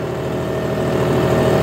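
A John Deere 5310 GearPro 55 HP tractor engine runs steadily at a constant idle-to-working speed, a loud, continuous low diesel rumble with no talk over it.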